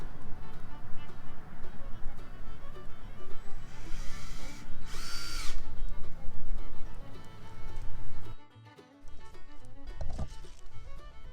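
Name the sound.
cordless screw gun driving screws into mailbox post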